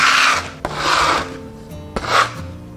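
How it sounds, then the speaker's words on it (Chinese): Sichuan peppercorns and salt crushed under a glass liquor bottle rolled back and forth, giving three long gritty rasping passes separated by brief clicks as the bottle changes direction, close and loud with no talk. "然后来回的这样子给它碾压碾碎。"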